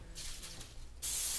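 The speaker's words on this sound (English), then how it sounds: "Spray it with some nonstick." Nonstick cooking spray hisses onto a pan on a stovetop, a short quiet spray followed by a louder, sharper burst of hiss.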